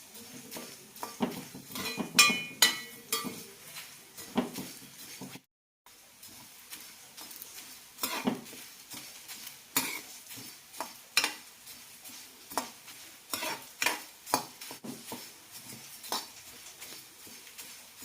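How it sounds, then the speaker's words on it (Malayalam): Coriander seeds dry-roast over a high flame in a pan while a spoon stirs them. Close scrapes and rattling strokes come in irregular bursts, broken by a brief silent gap, with faint sizzling underneath and no talk. "ഇപ്പോൾ ഹൈ ഫ്ലെയിമിലിട്ടാണ് വറുത്തുകൊണ്ടിരിക്കുന്നത്."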